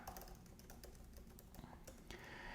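Typing on a computer keyboard, entering a search into a web browser: a steady run of close, quick key clicks lasting a couple of seconds, with no talk over it.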